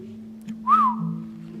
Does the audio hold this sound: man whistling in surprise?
yes